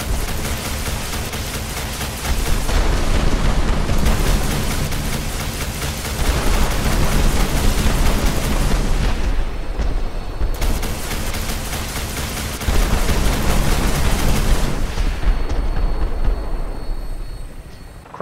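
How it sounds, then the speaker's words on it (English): Plasma missiles launched from a Vertibird in the game Fallout 4, loud dense rumbling blasts in three long bursts separated by brief lulls, heavy and continuous, with rotor-like roar throughout. "plasma missiles"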